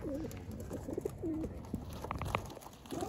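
A racing pigeon coos outdoors in a series of soft, low, rolling calls with short pauses between them, close by and with no talk.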